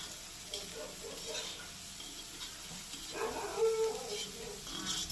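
Crushed garlic goes into a pan of onion and dried bombil fish frying for chutney, giving a quiet, steady sizzle with a slightly louder burst of crackling partway through.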